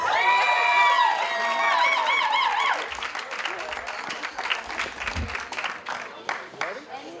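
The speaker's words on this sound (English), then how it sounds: "So kindly give them a big, big round of applause." Wedding guests clapping and cheering on a dance floor, a lively crowd with whoops and shouts over broad applause that settles into scattered claps and chatter.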